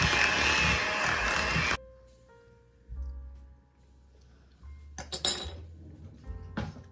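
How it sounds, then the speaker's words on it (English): A spoon clinks and scrapes against a bowl while salt and green chilies are stirred into a dip, loud at first and then giving way to scattered lighter clinks and taps. "while I'm mixing the salt in, let's just add a few more green chilies"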